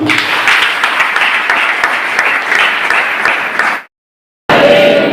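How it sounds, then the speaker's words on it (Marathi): A church congregation claps together in thanks to God, a loud, full burst of applause for several seconds that cuts off abruptly, then resumes briefly with a faint tone. "आपण जण टाळ्या मारून परमेश्वराला धन्यवाद देऊया"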